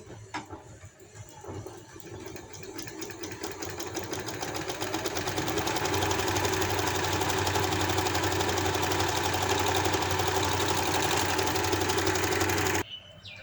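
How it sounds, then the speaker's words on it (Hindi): A sewing machine runs steadily, stitching fabric for a decorative bow, its mechanical whir starting softly and building to a loud, even rattle before stopping abruptly near the end; no talking. "तो यहाँ से मैं एक सिलाई लगा लूँगी।"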